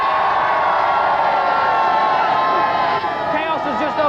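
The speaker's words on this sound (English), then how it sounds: "Give a round of applause to Alan!" Crowd cheering and applause from a large live audience at a national computer games championship event in Earl's Court, a steady loud roar of clapping and shouts sustained throughout.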